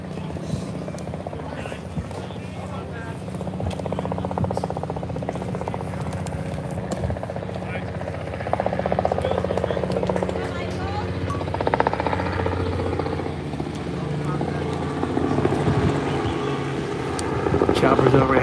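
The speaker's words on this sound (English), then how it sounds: "choppers overhead." At a high school baseball game, helicopters pass overhead, a low rumbling drone that swells and fades behind constant close commentary.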